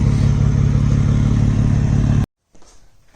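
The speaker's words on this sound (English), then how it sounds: "the idle is pretty beefy sounding" A vehicle engine idles through a 3.5-inch straight pipe exhaust, a loud, deep, steady rumble that cuts off suddenly partway through, leaving only faint low noise.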